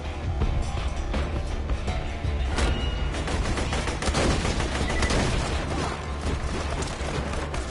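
Rapid bursts of gunfire from Borderlands 2 rattle on continuously and loudly, dense overlapping shots and booms filling the whole stretch with no voices.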